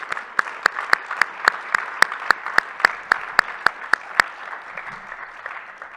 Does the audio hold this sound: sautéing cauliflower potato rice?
no